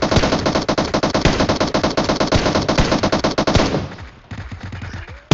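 Rapid automatic gunfire in the battle royale game PUBG, loud and dense bursts of shots for about four seconds, then a few scattered shots and a final sharp report.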